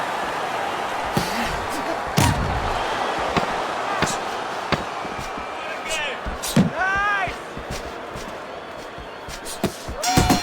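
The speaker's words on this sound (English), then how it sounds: "Firing off the uppercuts" Punches landing in the boxing game Fight Night Champion during a De La Hoya vs Chavez bout, several sharp heavy smacks spaced irregularly over crowd noise and commentary.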